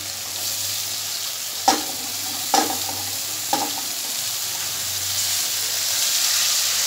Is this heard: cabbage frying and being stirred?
yes